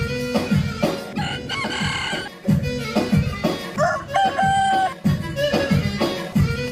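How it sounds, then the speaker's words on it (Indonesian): Chickens cluck and squawk loudly and close up in rapid, agitated bursts, with a rooster-like crow rising among the calls. "Wow, ada ayam."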